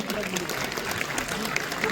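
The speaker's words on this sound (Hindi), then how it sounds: "जोरदार तालियां बजाएं।" A crowd applauds at a youth festival in Dudhola, Palwal, a dense wash of clapping heard under a voice speaking over it.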